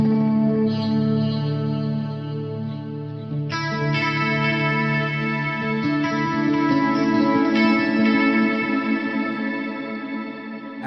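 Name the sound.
guitar with shimmer delay effect, 80s rig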